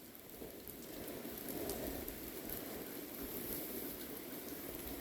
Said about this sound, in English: who knows, it might be raining like this.